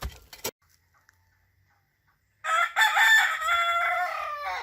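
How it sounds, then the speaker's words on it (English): A loud rooster crows once, close by, in a long rising and falling call after a brief quiet moment and a faint knock. "It's so nice waking up to the sound of the rooster."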